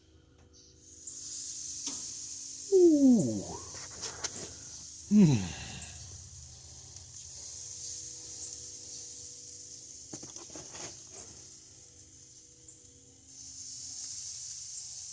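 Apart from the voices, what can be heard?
food sizzling on a grill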